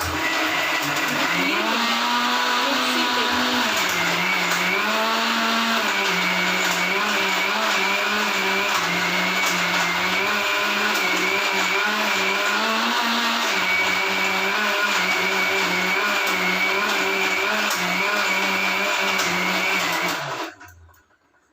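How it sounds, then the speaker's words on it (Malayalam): Home kitchen mixer grinder running continuously for about twenty seconds, a loud steady motor whine with slight pitch shifts as the load changes, then it cuts off and winds down at the end. "മിക്സി ഇട്ടതാട്ടോ"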